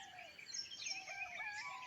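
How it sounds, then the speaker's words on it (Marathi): Birds chirping and singing in the morning continuously at a moderate distance, with overlapping high, thin calls and no voices. "सकाळचं वातावरण मस्तपैकी पक्ष्यांची गाणी ऐकू येतात किलबिलाट"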